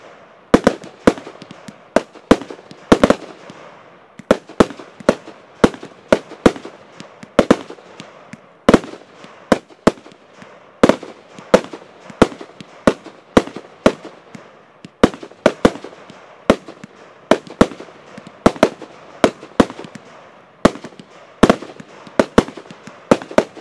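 Katan Full Power 36-shot firework cake from the Profi series fires a rapid string of sharp, loud bangs, some clustered in quick bursts, over a steady crackling roar.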